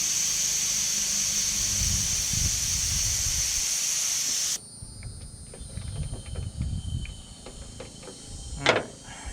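A loud, steady hiss of air escaping a bleed valve on a 1988 Chevrolet Suburban AC system runs for several seconds, then cuts off abruptly, leaving quiet clicks and a brief bump.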